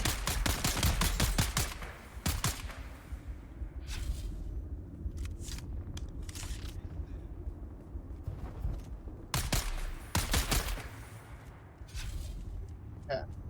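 Rapid automatic gunfire in the Dune Awakening video game, a dense burst of sharp shots at the start and another volley later, with a player talking over the action.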